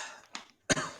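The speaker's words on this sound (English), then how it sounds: "You just have to have a coughing fit in the middle of it." Two close, abrupt coughs from a person, a smaller one followed by a louder harsh burst with a short trailing rasp, fairly quiet, with no speech.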